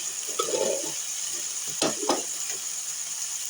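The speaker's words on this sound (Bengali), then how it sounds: "এবার মশলাটা তেল ছাড়া অবধি আমি ভালো করে কষাবো" Spice paste for a mutton curry fries in hot oil with steady sizzling, while a spoon scrapes and stirs through it in a few brief knocks and rustles, close and moderately loud.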